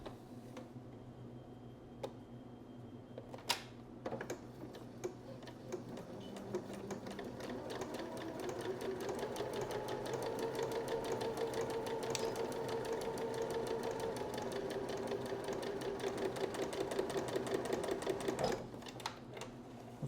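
A sewing machine runs a 3-stitch zigzag, starting with a few clicks and handling sounds before settling into a rapid, steady mechanical ticking with a humming motor tone that builds and holds, then stops near the end, close and without talk.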